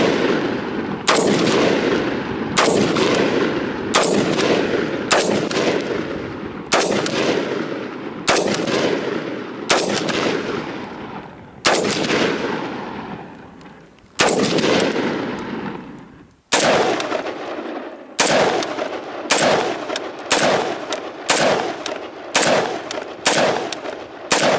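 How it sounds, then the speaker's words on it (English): Firearms fire at a shooting session with friends, a steady series of loud, sharp outdoor gunshots, each with a decaying echo, spaced a second or two apart and sometimes in quicker pairs, with no talking. "I finally got to go shooting again"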